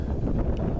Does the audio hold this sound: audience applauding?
no